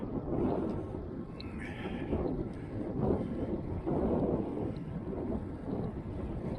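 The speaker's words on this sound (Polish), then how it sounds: "Oczywiście na takim otwartym terenie no to wieje zazwyczaj" Steady wind gusting across open grassy terrain near Niepołomice, a broad continuous rush that swells and eases, loud and close with buffeting on the microphone and no voices.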